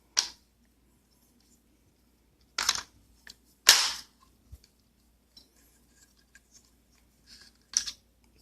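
The front takedown pin on the receiver of a .22LR rifle is pressed out, producing a few sharp, isolated metallic clicks and snaps spaced seconds apart in an otherwise quiet room.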